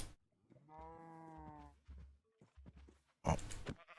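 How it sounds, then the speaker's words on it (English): Sheep bleating in the Minecraft video game, a drawn-out harmonic bleat followed by shorter calls and a sharp hit sound near the end, close and clear with no talking. "How many punches to the face will the sheep take?"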